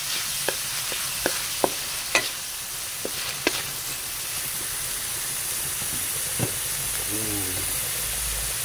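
Shrimp sizzle in a pan alongside green papaya and anchovies with ginger, making a steady frying hiss broken by several sharp clacks of a spatula stirring against the pan.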